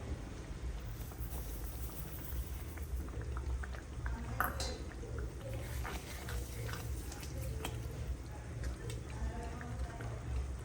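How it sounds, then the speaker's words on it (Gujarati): Milk bubbles and reduces in a pot for carrot halwa, a soft continuous simmer with faint pops and a few light metallic clinks. "હજી દૂધ બળી જાય ત્યાં લગી ચડવા દેવાનો છે"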